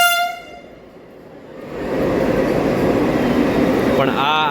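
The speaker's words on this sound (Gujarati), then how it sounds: "ફાઇનલી વંદે ભારત આવી ગઈ છે" A Vande Bharat Express train pulls into a railway station platform, a steady loud rumble and rush of wheels building and holding, with a brief horn-like tonal blare at the start and again near the end.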